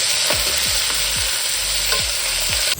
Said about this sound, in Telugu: కొంచెం బ్రౌనిష్ కలర్ వచ్చినంత వరకు ఫ్రై చేయండి